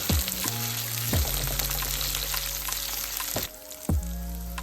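Urad dal frying in a pan for chutney gives a steady sizzle, with a few sharp clinks of a utensil against the pan and no voices.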